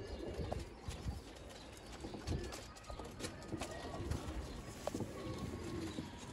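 Sialkoti breeder pigeons coo softly amid scattered rustling and shuffling, with faint background voices.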